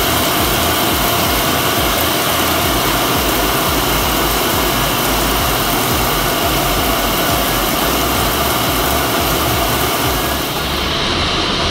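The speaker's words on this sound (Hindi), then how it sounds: "बहुत ज़्यादा तेज़ बारिश है इस टाइम" Very heavy rain pours down in a dense, constant roar, a loud unbroken wash of noise that stays level throughout with no voices.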